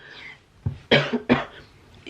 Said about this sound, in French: je tousse encore un peu